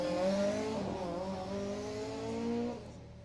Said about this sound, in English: So that's the Mazda MX-5 of Dale Crosley. Looking nice and confident coming through here